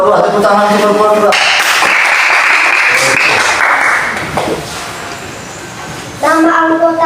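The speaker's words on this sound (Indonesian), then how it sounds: "Tepuk tangan untuk kelompok 2." Classroom applause for a student group, a burst of children clapping that swells, thins out, then gives way to young voices chanting or speaking near the end.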